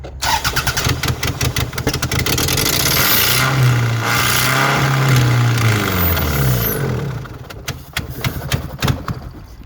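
A 2005 Toyota RAV4 with hard-starting and smoking problems is revved up close, its engine note climbing and holding high before dropping back to a rough, sputtering idle, with no talk over it.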